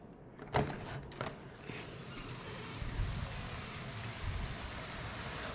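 Rain falls steadily during a thunderstorm in France, a faint continuous patter with a low rumbling undertone and a few soft knocks near the start.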